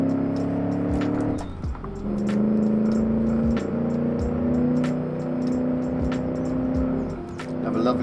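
A 1966 Gasmea muscle car with manual transmission cruises on a road in a driving game, its engine humming steadily with shifting pitch and brief dips, while a voice talks over it.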